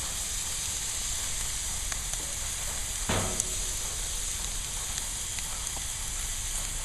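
Asparagus sizzling on a grill beside veal chops, a steady, even hiss throughout with faint crackles and one brief clatter near the middle, no talking.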